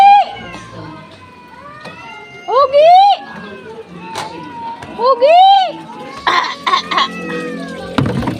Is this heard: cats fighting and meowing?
yes